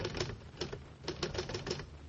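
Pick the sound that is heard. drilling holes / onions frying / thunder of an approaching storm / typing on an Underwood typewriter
typing on an Underwood typewriter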